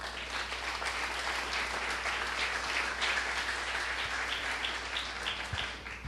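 An audience breaks into sustained applause during a church lecture, dense clapping from many hands filling the room at a steady level for several seconds.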